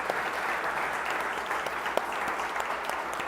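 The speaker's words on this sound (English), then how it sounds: "let's give all our finalists and award winner a nice round of applause" Audience at a high school spring sports player of the year award ceremony giving steady applause, a dense, even patter of many hands clapping at a moderate distance with no one speaking over it.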